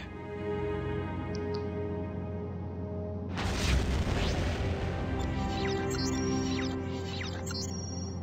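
A battleship blowing up in the space game Freelancer: a deep booming explosion hits suddenly over steady engine hum, then rumbles on with scattered debris crackles and chirping tones.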